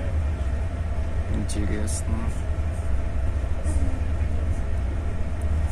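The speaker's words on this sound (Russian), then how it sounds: "грузовые вагоны тащат" A steady rumble and clatter of a moving train hauling freight wagons, heard continuously from nearby with faint squeals and knocks, while a voice speaks briefly over it.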